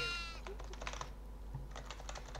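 A goat bleats once at the start of a video game clip, a short wavering call followed by clattering keyboard typing under a steady background hum.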